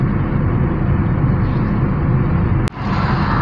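Steady broadband wind rush pours through the open windows of a moving Tata Tigor on a city drive, loud and continuous, with one sharp brief knock near the end.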